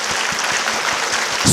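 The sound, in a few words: audience clapping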